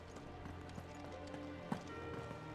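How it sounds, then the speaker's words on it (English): Hooves of Sleipnir, Odin's six-legged horse in Final Fantasy XVI, clop at a steady running pace, faint and continuous with one sharper knock, under a quiet game soundscape. "Sleipnir, a horse. You can see he has 6 legs."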